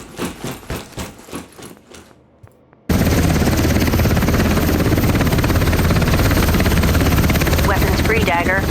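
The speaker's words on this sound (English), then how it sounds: "a helicopter has just opened up, landed right next to them" Helicopter gunship in the tactical shooter Ground Branch opening fire from close by: a few sharp shots give way to a loud, sustained, dense roar of rotor wash and rapid automatic gunfire that stays steady to the end.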